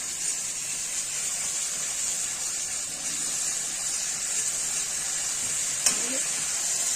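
Fried okra tipped into masala in a kadai, giving a continuous bright hiss and sizzle throughout, with a brief clatter near the end.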